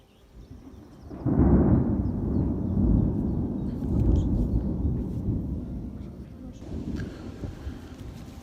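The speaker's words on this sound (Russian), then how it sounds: "Это громыхает. Хочу заснять для вас молнии немножко." A deep, heavy rumble of thunder rolls in after a quiet start, swells, then slowly fades into a lingering low growl.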